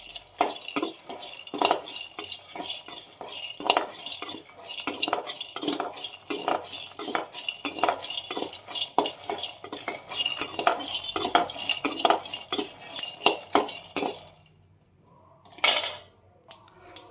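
Peanuts are roasted in a pan on the stove while a spoon stirs them constantly. Rapid, dense scraping and rattling clinks carry on for about fourteen seconds, then stop, followed by near silence and one final scrape.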